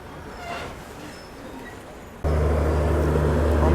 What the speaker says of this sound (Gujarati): 7:10 ફૂલ પાકા ટાઈમે આપણી ટ્રેન અહીંથી અમદાવાદ સ્ટેશનથી ડિપાર્ચર થઈ ચૂકી છે